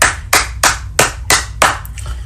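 Rhythmic group clapping in a church gathering, six sharp bursts of many hands roughly every third of a second apart, loud and close, with a hum of voices underneath.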